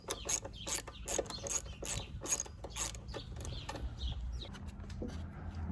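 Mechanical ratcheting of a socket wrench loosening the 8 mm tank mount bolts on a Honda CRF300L, a close, rhythmic series of sharp clicks in quick bursts that tapers off into quiet shop hum.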